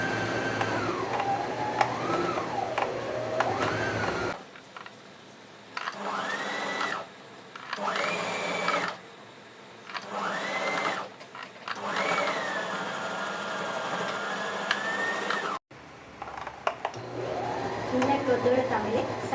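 Sewing machine joining the inner cloth pieces of a bridal potli bag, whirring in several steady bursts separated by short pauses, with a brief break near the end before running again.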